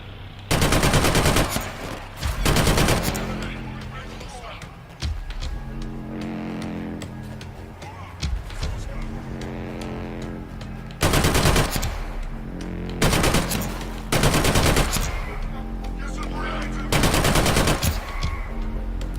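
Bursts of rapid automatic gunfire from a weapon in the first-person shooter Killzone Shadow Fall, loud repeated volleys separated by brief quieter gaps of game ambience.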